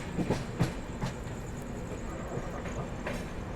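The Pune Kolkata Humsafar Express rolls along the tracks, a steady rumble carrying a few distinct wheel clacks near the start and fainter rhythmic clicks afterward, heard from inside the moving train.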